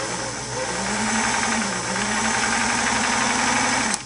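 A Singer Model 327K sewing machine, freshly oiled at the take-up lever stud, runs continuously and close by with a steady mechanical hum and whirr, alone with no voices.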